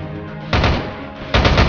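Video game gunfire from Frontline Commando: Rivals: two loud bursts of rapid automatic shots, the second starting near the end, over a steady background hum of battle ambience.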